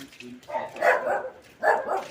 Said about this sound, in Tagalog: Sabi ng aso, welcome home!